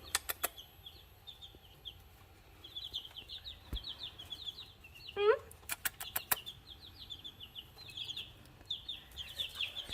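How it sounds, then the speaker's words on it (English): Pekin Bantam chickens give soft, scattered clucks and chirps in a quiet farm setting, with sharp clicks and a brief squawk partway through. "These are going to be our meat chicken stock, really, so that was super exciting."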